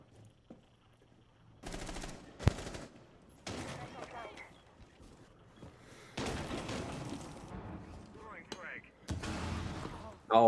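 A grenade detonates on a hatch during a Rainbow Six Siege match, heard among repeated bursts of gunfire and other in-game blasts while commentators talk over the action.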